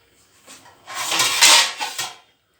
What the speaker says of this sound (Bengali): আমি ঢাকা দিয়ে দিলাম।